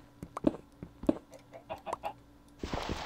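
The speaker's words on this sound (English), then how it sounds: "Oh, I hear chickens." Minecraft chickens cluck in short, scattered bursts at moderate volume, ending in a brief rush of hissing noise.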